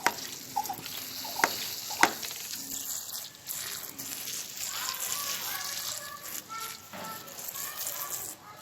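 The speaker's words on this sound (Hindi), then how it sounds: "ये देखें इसको हम पानी देने लगे।" Water poured onto the soil of a potted pomegranate plant, a soft steady splashing and trickling with brief clatters, heard close up under faint background noise.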